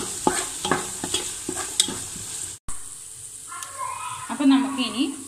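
Fried rice seasoned with pepper powder is stirred in a pan: the spatula scrapes in quick, irregular strokes over a steady sizzle, broken by a short dropout partway through. A voice speaks briefly near the end.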